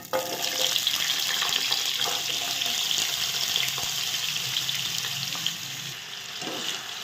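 Cut potato pieces for an egg potato fry hiss and crackle in hot oil, a close, continuous sizzle that holds steady throughout.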